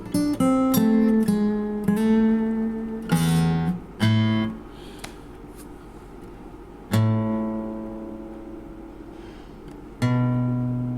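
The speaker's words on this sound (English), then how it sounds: "It's a very exotic sounding scale. It's called a harmonic minor scale, and it sounds like this." Solo guitar plays a harmonic minor scale as a run of plucked notes, quickly at first, then a few spaced single notes left ringing and fading.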